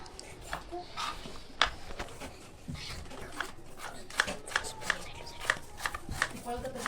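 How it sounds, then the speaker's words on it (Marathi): Onion being chopped finely while momos are prepared, a run of crisp, evenly spaced knocks coming faster toward the end, heard under ongoing conversation and background kitchen noise. "आता कांदा कापून घेऊया"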